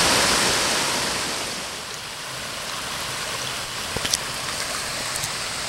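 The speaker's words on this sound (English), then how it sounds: "It's more or less a mountain stream in this area." Steady, full rushing water of a mountain stream at the headwaters of the Conway River in an isolated forest, a constant close wash with a few faint splashes near the end.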